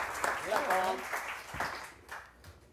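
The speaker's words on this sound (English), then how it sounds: "So one more round of applause for them." Thin, faint applause from a small audience at a livestreamed jazz concert, mixed with a voice talking over it and fading out.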